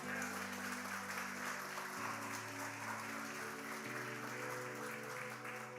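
Faint, steady applause rises from a church congregation, with a sustained organ or keyboard chord shifting underneath the clapping throughout.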